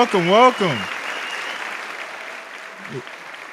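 A live-stream audience gives a round of applause, a broad wash of clapping that starts under a brief spoken phrase and then fades steadily over a few seconds.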